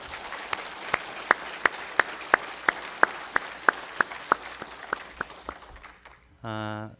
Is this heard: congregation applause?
yes